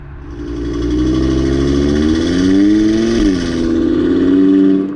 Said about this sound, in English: But man, this car sounds good in boost.